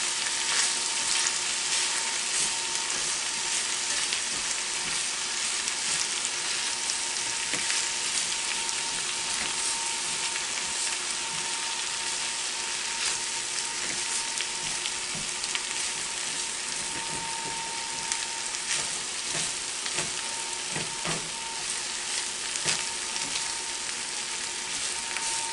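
Rice noodles fry in a hot pan with a dense, continuous sizzle and crackle, steady and close with scattered sharper pops, no talk.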